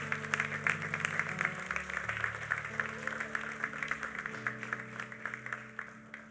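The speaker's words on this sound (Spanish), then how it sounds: "¿Te atreves a darle un aplauso fuerte al Señor?" A church congregation at a Sunday service applauds, fairly faint and spread out, with sustained clapping layered over held organ or keyboard chords.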